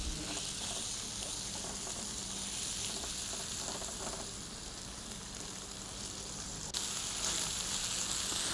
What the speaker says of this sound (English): Basically what I'm after here is I just want to sear the outside of it.